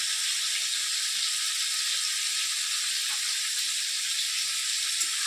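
Ground spice paste with dry red chillies and a spoonful of turmeric goes into a hot pan for a vegetarian potol and dhoka curry, giving a steady, bright sizzle that holds evenly throughout with no voices.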